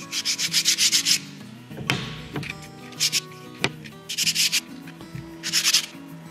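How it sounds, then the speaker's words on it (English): Wooden display frame hand-sanded with 80 grit sandpaper, heard as close, rhythmic bursts of rasping strokes in several runs separated by brief pauses and light knocks. "I'm going to use 80 grit sandpaper and just make sure I get off any blemishes that might be on the inside"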